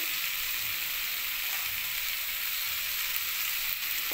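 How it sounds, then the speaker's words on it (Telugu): Lentils fry in a pan with oil, giving a steady, fine, close sizzle that continues evenly without pause, no voices present. "పప్పు కూడా ఫ్రై అయిపోయింది"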